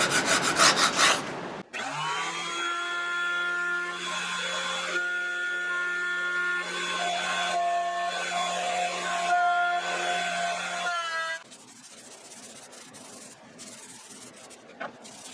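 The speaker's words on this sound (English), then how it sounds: "knock off some of that top layer of the glue here and any globs of glue" Dried glue being scraped off a wooden board before planing, making a sustained, even rubbing tone that holds for several seconds after a brief burst of noise, then gives way to softer scratchy scraping.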